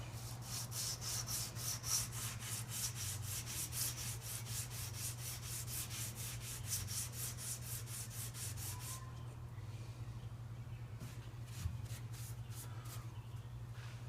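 Metal hand-sanded with 400 grit sandpaper in a garage workshop, heard up close as fast, even rasping strokes in a regular rhythm over a constant low hum. The strokes fade and thin out partway through.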